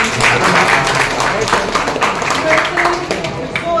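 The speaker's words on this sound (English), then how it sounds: "big round of applause" Audience applause at an Independence Day public speech fills the space with dense, steady clapping from a crowd, loud and continuous.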